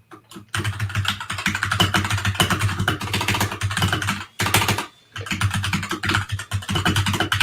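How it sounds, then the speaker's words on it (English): Fast, steady typing on a loud new mechanical keyboard, with dense clacking keystrokes running nearly continuously and close up, broken by a brief pause near the end before resuming. "How loud my keyboard is? Yeah. Is it from the past? No, it's a nice new mechanical keyboard."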